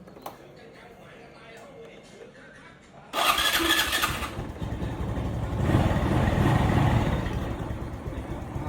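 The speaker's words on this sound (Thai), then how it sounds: "ฟังเสียงเบิ้ง" A motorcycle engine cranks and catches after a quiet stretch, then revs up loudly and keeps running close by with a rough, throaty roar.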